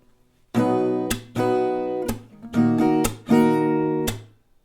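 Acoustic guitar strumming that changes between two chords in a steady rhythm, with sharp percussive slaps between strums. No voices.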